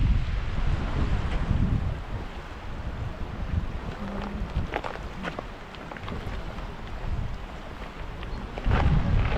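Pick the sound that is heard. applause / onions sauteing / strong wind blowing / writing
strong wind blowing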